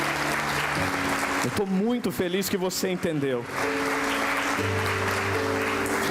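Audience applause fills the hall in a steady roar of clapping, continuing under someone speaking Portuguese into an amplified microphone at a church-style talk.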